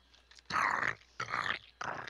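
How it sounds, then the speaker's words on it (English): Three bursts of crunchy chewing close to the mic, each about half a second with short pauses between, like something crisp being bitten and chewed. "Can you hear that crunching?"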